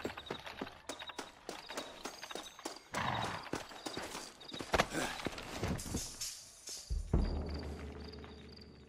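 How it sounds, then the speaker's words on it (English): Horses in the video game Red Dead Redemption whinny and clatter their hooves in quick clip-clop runs, with thuds and bursts of movement close by, and brief voices now and then. "Looks like Carlos left us some horses."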